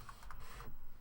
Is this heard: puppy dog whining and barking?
no